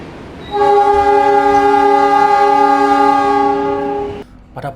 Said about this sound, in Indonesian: kereta api Pandalungan berangkat stasiun Sidoarjo